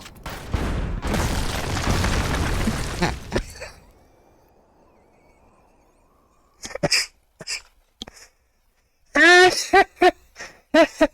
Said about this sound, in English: I didn't think that generator was gonna make that big of an explosion.